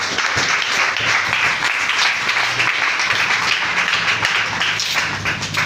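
A church congregation bursts into sustained applause, a dense, even wash of many hands clapping close and loud without pause.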